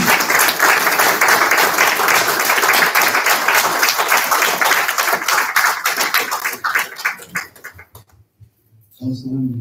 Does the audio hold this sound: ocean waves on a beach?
no